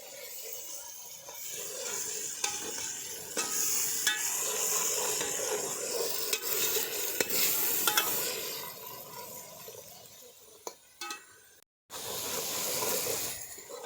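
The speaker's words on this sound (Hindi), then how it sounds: "टमाटर को तब तक पकाना है जब तक अच्छी तरह नरम ना हो जाए।" Tomatoes fry in a kadai for chicken kadai, cooked outdoors in a field. There is a steady moderate sizzle with scraping and clinks from stirring, a brief drop near the end, then the sizzle resumes.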